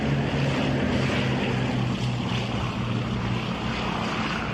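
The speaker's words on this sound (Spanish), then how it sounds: "En el otoño de 1943, los aviones de reconocimiento aliados recorrieron las playas del norte de Francia" Allied reconnaissance aircraft flying over the beaches of northern France in autumn 1943 give off a steady, droning propeller-engine roar that stays continuous and fairly loud throughout, with no voices.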